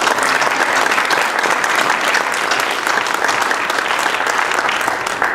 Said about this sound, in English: Would you please give a round of applause for our judges today?